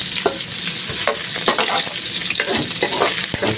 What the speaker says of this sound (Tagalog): Yun, mantika mga idol. Yan, magisa na tayo.